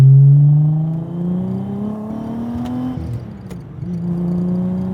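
A VR6 engine swapped into a VW Mk2 GTI revs up through rising pitch, drops briefly at a gear change, then climbs again, loud and close with a throaty whir.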